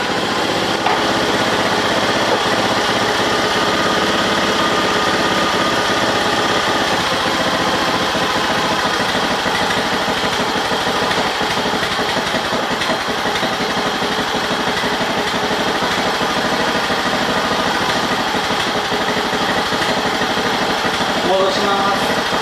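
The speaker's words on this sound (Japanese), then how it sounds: "エンジンをかけながら、キャブレターのネジを緩められるところまで緩めてみました" Honda 2 hp outboard engine runs with its carburetor mixture screw backed out as far as it will go, feeding extra fuel. A close, steady idling drone with a light buzzy rattle continues unbroken throughout.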